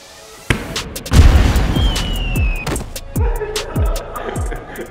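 A football shot struck hard at goal during a football challenge, a sharp loud thump followed by several booming impacts and rattles, with scattered bangs echoing outdoors.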